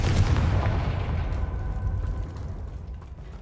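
The Confringo fire spell explodes in Hogwarts Legacy as a single loud, low boom that rumbles and fades away over a few seconds.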